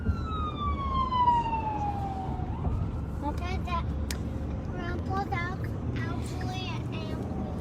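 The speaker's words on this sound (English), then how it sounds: "That's an ambulance." A wailing ambulance siren sweeps downward in pitch as it passes on Harry Hines Blvd and fades within a few seconds, followed by traffic rumble and distant voices.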